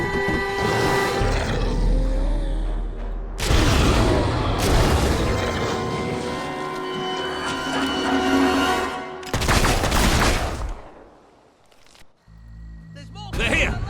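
Battle sounds from Fable 3: loud bursts of gunfire and booming explosions in several surges separated by short lulls, with voices speaking amid the noise.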